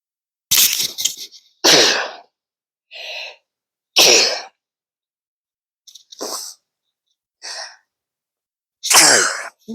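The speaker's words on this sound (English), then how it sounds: "I think I'm going to sneeze again." Someone sensitive to dust from a heater sneezes and coughs close by, again and again. About seven sharp, explosive bursts come one after another, each followed by a short silence.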